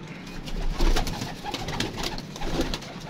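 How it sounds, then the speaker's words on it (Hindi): Outdoor pigeons coo in repeated soft, low calls over steady background noise across about three seconds, with no talking. "बहुत ही लाजवाब, बहुत ही आउटस्टैंडिंग कबूतर हैं ये।"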